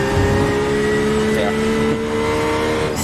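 A Porsche GTE race car engine in iRacing at Silverstone, a steady sustained drone with stable tonal harmonics, loud throughout with a voice talking over it.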